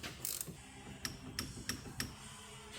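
A torque wrench set to 26 foot-pounds clicks while tightening a nylock nut on a 2007 Ford Focus front brake, giving an opening rattle and then four crisp, evenly spaced clicks, close and fairly quiet.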